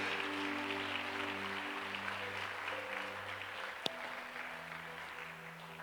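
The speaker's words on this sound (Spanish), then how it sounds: "Podemos dar un aplauso al Señor" Congregation applauding in a church service, a steady wash of clapping carried over sustained organ or keyboard chords, with one sharp knock near the end.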